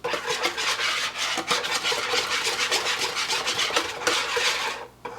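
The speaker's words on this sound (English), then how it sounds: "We're going to whisk this together." A whisk is worked by hand through vanilla, flour and brown sugar in a large bowl for an apple butter pie, making quick, steady, rhythmic scraping strokes up close until it stops.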